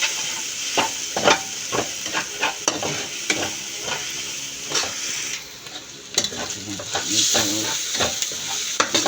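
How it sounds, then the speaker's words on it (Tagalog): Tomato paste is sautéed in a hot pan, a steady frying sizzle and hiss running throughout, broken by repeated scraping and clattering strokes of a spoon or spatula against the pan. "Gigisa po natin yung tomato paste."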